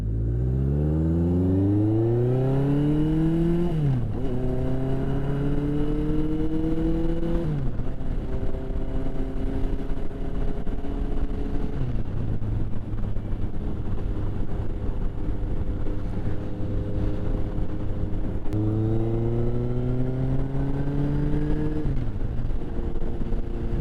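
A 1981 Yamaha XS1100 Midnight Special motorcycle pulls away from a full stop on a busy Vancouver road. Its engine revs climb and drop through several gear changes under steady wind rush, loud and close, with no talking.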